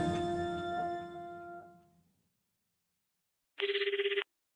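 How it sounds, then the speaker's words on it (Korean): A sustained tonal chord fades into silence, then a telephone gives one short, rapidly trilling electronic ring, close and clear. "형님한테서 전화가 왔다."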